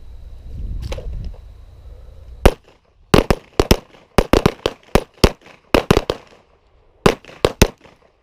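Pistol gunshots fired in a defensive shooting drill, a quick pair of shots followed by rapid close, loud bursts of single and double reports with short pauses, after a stretch of muffled handling noise.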